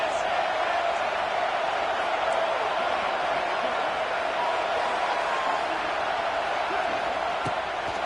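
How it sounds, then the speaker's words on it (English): Stadium crowd in a Madden football video game roaring steadily on a third-and-long play, a dense, constant wash of cheering that holds at the same loud level throughout. "This crowd with a bolt of energy on 3rd and long."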